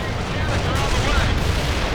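Heavy naval gunfire from a battleship's 16-inch cannons in the World in Conflict video game, a dense continuous roar of booming blasts that fills the whole clip, loud and close.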